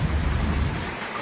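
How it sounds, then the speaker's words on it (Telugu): Heavy rain pours down near Brahmagiri at Nashik, source of the Godavari, as a loud continuous roar with a low thunder-like rumble underneath that fades toward the end. "భయంకరంగా వర్షం పడుతుంది."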